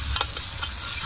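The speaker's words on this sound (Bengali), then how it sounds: "এই দেখো এখানে রান্না হচ্ছে, চিকেন রান্না হচ্ছে।" Chicken cooking in a pan at an outdoor picnic, a brief burst of steady frying sizzle with faint crackles.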